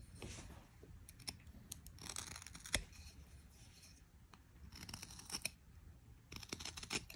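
A whittling knife makes scooping cuts in a wooden pumpkin-head carving, giving faint close scraping strokes in a few separate bursts over quiet background hiss.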